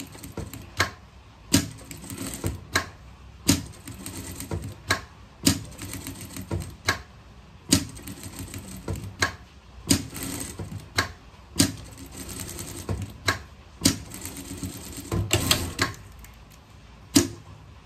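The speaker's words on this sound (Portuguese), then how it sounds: "Passar a costura aqui." A sewing machine stitches a seam on fabric for a pet costume, running in short repeated bursts with rhythmic mechanical clatter and regular sharp clicks, close up and steady throughout.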